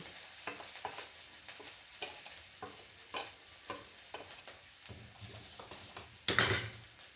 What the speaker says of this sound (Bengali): এটা দইয়ের সঙ্গে মশলাটা মিশিয়ে নিচ্ছি